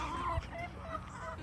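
A hen in a backyard flock of chickens and ducks in the United States clucks in short, throaty bursts, close and moderately loud over a steady background hum.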